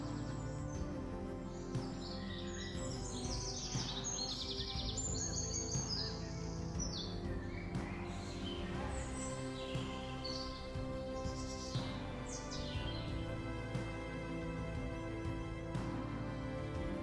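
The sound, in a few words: tropical birds calling in Australian rainforest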